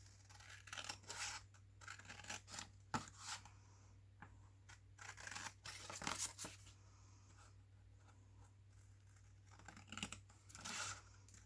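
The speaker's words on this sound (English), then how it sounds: "So now we're just going to trim this up." Scissors trimming a craft made from an old Christmas card, a series of quiet, close snips and paper rustles in irregular bursts over a low steady hum, with no talking.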